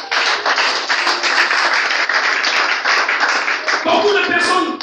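A church congregation applauding at a service, dense sustained clapping throughout, loud and close, with voices mixed into the noise.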